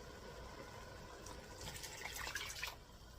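A flour and broth mixture pours into a pot of turkey à la king, a soft liquid splashing and trickling that swells briefly near the end, faint and close with no speech.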